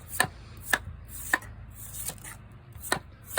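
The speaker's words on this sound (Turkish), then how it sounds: "elden doğramaya devam ediyoruz" Sugar beets chopped by hand with a knife: five sharp, close chops spaced at uneven intervals, each one crisp and distinct, with no voices.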